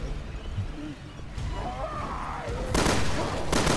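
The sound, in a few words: double-barrel gunshot in a video game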